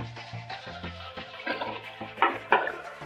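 Green chilies frying in oil with a kachnar mutton curry, with repeated scraping and clattering stirring strokes over a soft sizzle that grows louder toward the end, and no talking.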